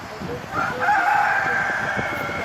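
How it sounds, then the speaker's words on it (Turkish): A rooster crows nearby in one drawn-out call over steady wind and lapping waves on Lake Bafa. "Ee horozlar var."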